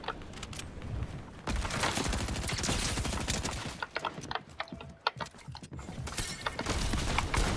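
Gunfire from Fortnite in dense, rapid bursts mixed with clicking mechanical weapon sounds, loud and close, with brief pauses between volleys and no talk.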